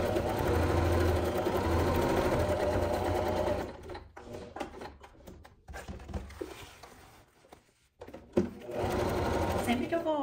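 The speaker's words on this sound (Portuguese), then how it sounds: "E vou levar lá na máquina e passar uma costura aqui em volta." Sewing machine stitching a seam around the edge of a nylon bag, a steady close whir for several seconds, then stopping and restarting in short bursts as the fabric is turned at curves.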